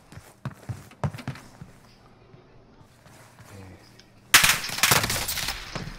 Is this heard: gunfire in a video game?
yes